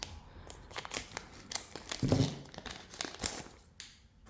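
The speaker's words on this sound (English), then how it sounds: "I'm going to do scissors." Crisp snipping and crinkling as scissors cut open trading card pack packaging, a series of short irregular cuts and rustles close by, with a louder crunch in the middle.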